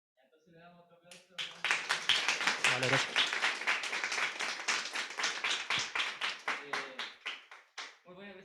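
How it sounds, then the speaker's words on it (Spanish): Audience applause follows a talk on topological quantum computation: a brief spoken thanks, then about six seconds of loud, dense clapping that thins into separate claps before a voice returns at the end. "Ya, entonces le damos otro aplauso."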